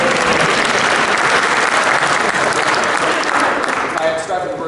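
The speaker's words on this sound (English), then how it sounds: "I think she deserves a round of applause" Sustained, loud applause from a workshop audience, a dense steady roar of many hands that holds for several seconds and eases slightly near the end as a voice starts to come through.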